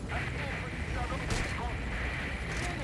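Knockout gunshots in Metal Gear Solid V: Ground Zeroes, fired at a guard: two sharp reports about a second apart, set against a constant rumbling game soundscape.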